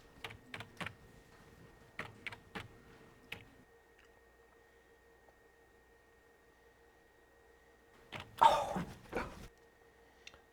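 Someone types on a computer keyboard in short bursts of clicking keystrokes separated by quiet pauses, ending with a louder, denser flurry of keys near the end.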